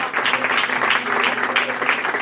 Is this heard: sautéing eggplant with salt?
no